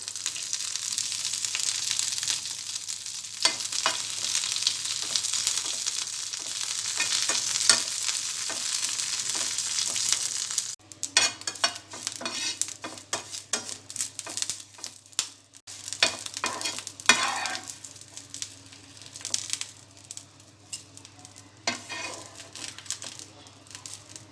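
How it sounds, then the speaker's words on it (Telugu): Curry leaves frying in the same oil used for dried red chillies, a dense hiss and crackle at first, then sputtering pops and stirring scrapes in a pan, close by. "ఎండుమిర్చి ఫ్రై చేసుకున్న ఇదే ఆయిల్లో కరివేపాకు వేసుకోవాలి"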